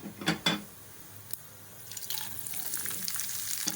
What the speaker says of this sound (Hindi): ये पैन में हमने गरम कर लिया है ऑयल और इसमें ये ज़ीरा डालेंगे